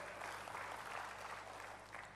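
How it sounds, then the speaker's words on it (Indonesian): Church congregation applauding during a service, a brief stretch of steady clapping heard faintly at a distance under room hum. "Yang percaya, berikan tepuk tangan bagi Tuhan."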